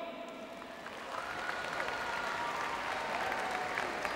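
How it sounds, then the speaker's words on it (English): Audience applause at a lifetime achievement award event, a steady wash of many hands clapping at moderate volume that swells slightly after the first second and holds. "can we please round of applause to Dr. Ali?"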